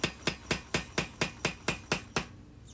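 A hammer forges steel into the handle section of a full tang integral bolster knife, ringing out about ten evenly spaced, sharp strikes roughly four per second, close and loud with no voices.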